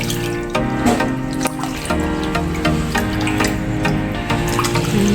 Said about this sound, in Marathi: आंबे स्वच्छ धुवून घ्यायचे